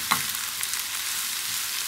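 Sliced onions and thinly chopped mushrooms sizzle and fry in a pan, a steady close hiss with a brief clink near the start and no talking.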